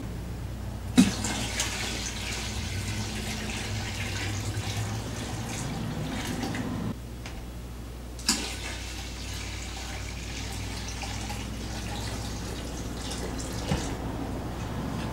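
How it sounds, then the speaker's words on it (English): Room-temperature tap water runs steadily into a fermenting bucket for red wine from concentrate, a continuous close splashing fill that briefly pauses and restarts, with no talk. "We're gonna get some tap water, just room temperature, and we're gonna come up to about the 4 gallon mark next."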